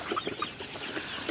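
Brown layer hens on a poultry farm cluck nearby in short, uneven bursts over a low background murmur of the flock.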